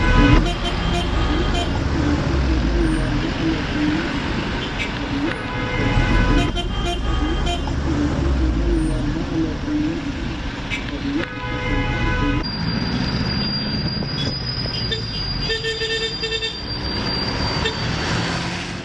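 Busy street traffic in the old quarter of Alexandria, Egypt, with cars and buses honking repeatedly in short and long blasts over a constant roadway roar, partly under a speaking voice.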